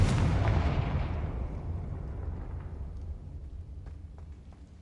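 A loud fiery blast from the Confringo spell in Hogwarts Legacy, a single heavy boom with a deep rumbling roar that decays slowly over several seconds, with small crackles in the tail.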